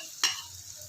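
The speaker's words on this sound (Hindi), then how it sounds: "इसको हल्का सा हम फ्राई कर लेते हैं इस मसाले में भिंडी को" Okra frying in a masala base, with one short sharp stir-scrape near the start over a faint, steady sizzle.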